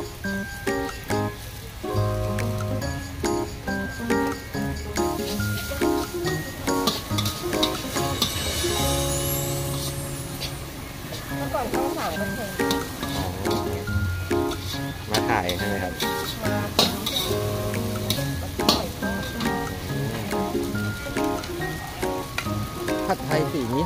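Orange pad thai being stir-fried in a pan at a stall outside Wat Chulamanee, with steady loud sizzling and scraping throughout, music playing over it and talk in places.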